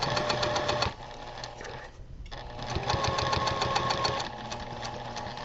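A sewing machine stitches a seam on a double wedding ring quilt with a fast, close, rhythmic whir. It pauses for about a second, then resumes in short back-stitch runs.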